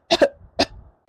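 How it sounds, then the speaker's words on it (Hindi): Close, sharp coughing from a sick person indoors: a quick double cough followed by a single harsher cough, each burst short and dry with brief pauses between. "मुझे तो इनकी खांसी सुन के भी डर लगता है।"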